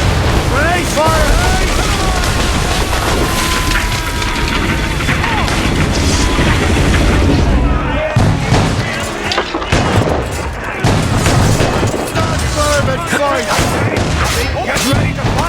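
Cannon fire and grenade explosions during a naval ambush in Assassin's Creed Rogue, a dense, loud barrage of booms and blasts with shouting voices mixed into the battle din.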